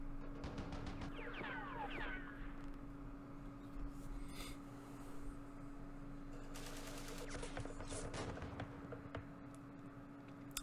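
Gunfire aimed at a tank in the Campaign Series Middle East video game: rapid rattling bursts of shots with sharp cracks, set against a steady game hum.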